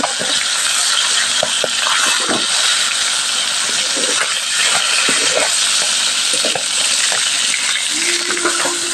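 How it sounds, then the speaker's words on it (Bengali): Tengra fish heads and tails frying in mustard oil, a loud, continuous hiss and crackle with scattered sharp spits and pops throughout. "এই যে বন্ধুরা ট্যাংরা মাছের লেজা আর মাথাটা ভাজা হচ্ছে।"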